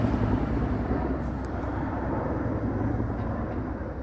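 Two Chinook helicopters flying over Windsor produce a steady, loud, broadband rumble that holds throughout without clear rotor beats.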